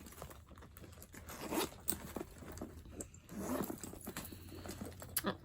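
A bag's zipper being worked in short rasping pulls, close by, with soft fabric rustling and handling noises in between.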